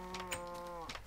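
A cow in a survival video game lets out a single sustained moo, a low droning bellow with rich harmonics that bends down in pitch at its end, fairly quiet and heard without any talk.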